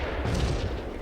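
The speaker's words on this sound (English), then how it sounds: "It does look like spotting rounds. It looks like a harassing mission." Artillery spotting rounds burst in a Combat Mission wartime battle game during a harassing barrage, a muffled booming rumble with a dull impact that lingers heavily in the low end, heard alone.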